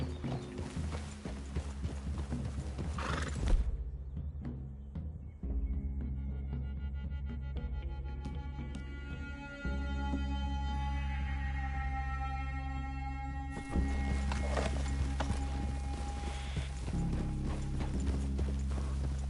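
Horse hooves clip-clopping in the Red Dead Redemption video game, a steady rhythmic trot heard close over a continuous music bed, with a brief whinny partway through and no talking.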